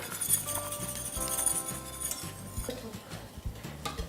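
Spoon stirring a mixture in a saucepan on the stove, the softened gelatine heating toward a boil; soft scraping and light metallic clinks repeat steadily through the clip, close and moderately quiet, with faint background music.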